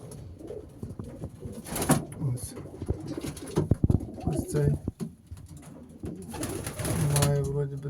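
Racing pigeons coo repeatedly close by, soft throaty calls scattered among rustling, wing flaps and light knocks.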